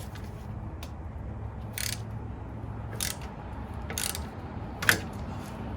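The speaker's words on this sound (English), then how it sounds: "Don't know what it is with these little bolts that keep wanting to snap." A small 10mm bolt on a Dodge Ram 5.7 Hemi gives way during radiator and intake removal: a few short metallic ratcheting bursts over a low steady hum, then one sharp crisp snap.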